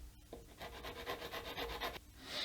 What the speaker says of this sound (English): And then you can start sanding.